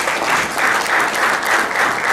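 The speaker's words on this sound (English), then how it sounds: "A big round of applause for all the speakers." Conference audience claps for a lineup of some forty speakers, an even, continuous patter of many hands that swells and dips in soft waves throughout.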